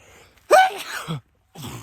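A single loud, close sneeze bursts out sharply and ends in a brief exhale, followed by quiet and then faint breathy sounds.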